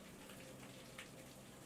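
Rain falling in the video game Dreamfall Chapters, a steady soft patter of drops across the whole stretch, faint and even, with no voices over it.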